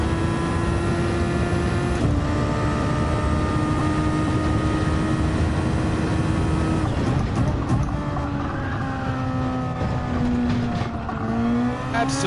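A Red Bull-style SF19 Formula racing car engine at Spa-Francorchamps in Gran Turismo 7, running with engine damage, holds a loud steady high-pitched drone that shifts pitch near the end, alone without talk.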